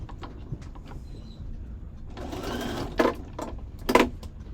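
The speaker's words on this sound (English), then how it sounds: "it's a bit hard to pull the sewing machine in and out of the shot" A sewing machine hums steadily for a couple of seconds, with two sharp clacks near the end and quiet rustling before it starts.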